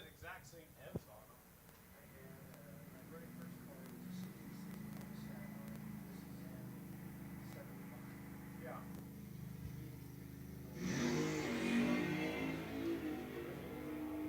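Drag racing Plymouth Cuda and station wagon idle and rumble low under an announcer's talk at a Mopar event, then one car launches with a sudden loud roaring surge near the end.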